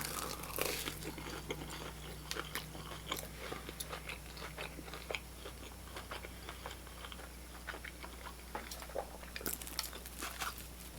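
Someone bites into cornflake-crusted brioche French toast at a restaurant table, giving faint, close crunches and chewing at irregular intervals against a quiet room hum.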